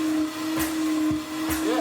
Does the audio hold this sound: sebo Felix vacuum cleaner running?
yes